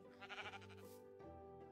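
A Minecraft sheep bleats once, quietly, a short wavering baa heard alone against faint game background.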